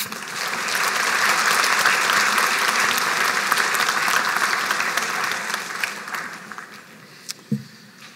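Audience applause for graduates at a college graduation ceremony, a full, dense round of clapping that swells quickly, holds steady, then tapers off into a few scattered final claps.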